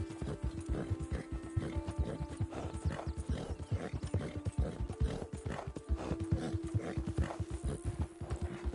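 Horse hooves clip-clopping in the Red Dead Redemption 2 video game, a steady walking rhythm of close hoofbeats with faint mechanical creaks and a horse's whinny in the background.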